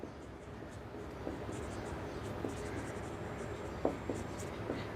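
A pen writes on paper as a solution to a coin-tossing probability problem is set down, a soft continuous scratching with a few sharper taps and strokes, close and quiet, with no talking.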